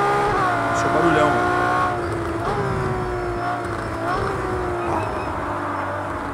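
A Ferrari LaFerrari in Project CARS 2 at Barcelona roars through its gears with a rising and falling engine note, and scattered exhaust pops sound off throttle while someone talks over it.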